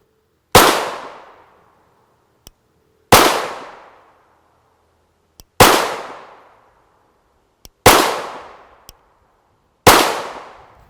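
Five sharp, loud 9x19mm pistol shots from a Glock 19 Gen 4 MLS with a Holosun 407 sight, firing 77-grain copper rounds into defense gel, spaced a few seconds apart, each with a ringing decay and faint clicks between.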